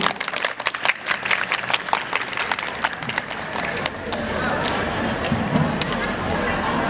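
A large crowd of high school students applauds at a school event, starting with scattered, sharp individual claps that swell into a continuous, dense roar of clapping with voices mixed in.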